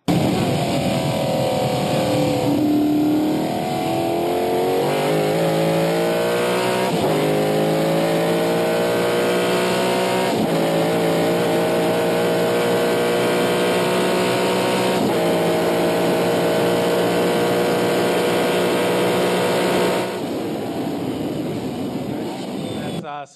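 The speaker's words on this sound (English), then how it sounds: "And Ben, we even have a sound effect of a very healthy small block Chevy and a McLaren Can-Am car." A healthy small-block Chevy V8 in an ex-Oscar Kowaleski McLaren M6 Can-Am race car at Road America roars loudly and continuously, rising in pitch through repeated gear changes as the car accelerates.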